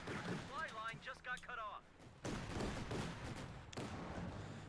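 Heavy .50 cal machine gun fire in Company of Heroes on the Angoville Farms map, heard as dense rolling bursts of battle noise and booms under steady commentary.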